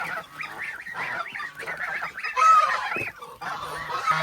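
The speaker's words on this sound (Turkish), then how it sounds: "Evet şimdi bunlar makineden çıkan bizim kazlar." Incubator-hatched geese honk repeatedly and loudly up close in a barn, a noisy overlapping chorus of nasal calls with brief pauses and a louder burst midway.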